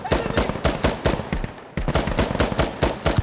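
Gunfire from the video game Insurgency Sandstorm: rapid automatic bursts of sharp, loud shots in quick rhythmic succession, with a brief pause midway before the firing resumes.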